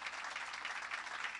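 Audience applause at a university awards ceremony, a steady wash of clapping from many hands that holds evenly throughout, fairly loud and with no voices over it.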